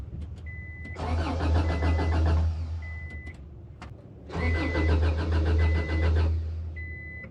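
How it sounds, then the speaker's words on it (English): A Subaru car's ignition switched on, giving two long, loud bursts of steady mechanical whirring and engine noise, each a couple of seconds long, separated by a short pause, with faint electric tones between them. "I'm going to go turn the ignition switch on."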